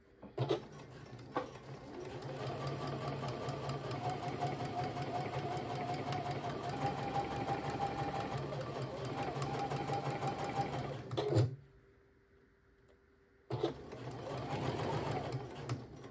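A sewing machine stitching the fly front of trousers, a steady fast whirring hum running for about eleven seconds, a brief stop and silence, then the motor starting up again, with no talk over it.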